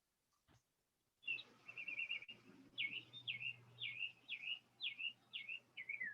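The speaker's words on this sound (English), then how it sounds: "Maybe we should just listen to the bird for a while" A bird sings a string of about eight short, repeated chirping phrases in a quiet room, clear and close over a low steady hum after a brief silent start.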